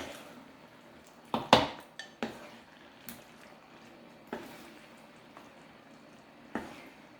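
Kabocha squash and shrimp stew is served into a bowl with scattered clinks and knocks of a utensil against dishes, a few sharper taps among quieter scrapes, close by and without talk.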